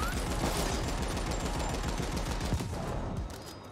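Rapid sniper turret fire in The Ascent, a dense, loud stream of automatic shots and impacts filling the whole stretch, easing slightly near the end.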